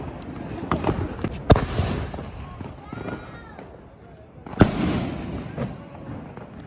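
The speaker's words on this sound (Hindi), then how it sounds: "तो काफी आवाज आ रहा होगा पटाखा फोड़ने का।" Firecrackers burst on New Year's night: two sharp, loud bangs stand out among scattered nearer and farther pops, with people talking throughout.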